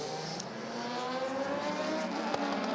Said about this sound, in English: That car, by the way, now sporting a Judd V8 engine rather than the HPD engine of its original spec